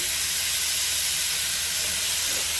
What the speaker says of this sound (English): I think our frying pan's really good and hot. So I am going to go ahead and add in my squash